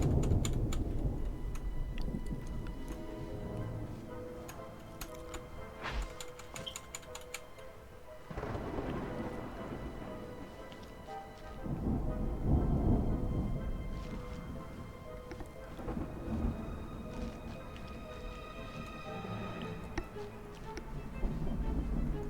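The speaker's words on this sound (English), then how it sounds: "We'll look out at the storm" A thunderstorm in the video game Smalland sends low thunder rumbling in swelling waves under a steady wash of rain, with scattered ticking and pattering on top, moderately loud throughout.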